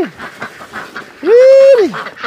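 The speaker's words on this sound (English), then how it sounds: "See the duck eating the food?" A duck on a Thai island gives one loud, drawn-out nasal quack, close by, after a stretch of softer scattered sounds.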